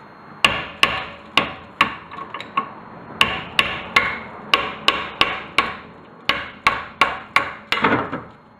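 Hammer strikes knocking a brake caliper part loose on a Nissan 240sx during a rear brake upgrade, about twenty sharp close metal blows in uneven bursts with short pauses between groups.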